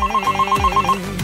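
A telephone rings in a rapid, repeating electronic trill, steady and fairly close, with a low thud or two in the background.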